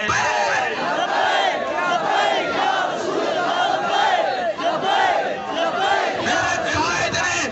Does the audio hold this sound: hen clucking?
no